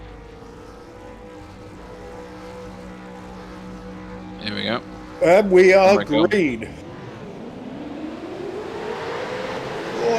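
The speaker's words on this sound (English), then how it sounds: "you'll hear the engine notes rise" Supercars race cars in the iRacing video game at a race start: a steady droning engine hum, a short stretch of someone talking, then engine notes climbing in a rising whine.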